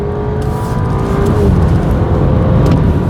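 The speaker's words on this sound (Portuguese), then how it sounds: "Ó, vamos dar uma aceleradinha aqui" An Audi Q5 S-Line SUV accelerates from inside the cabin, a steady loud engine drone with a rising tone building over road and wind rumble, no talking heard.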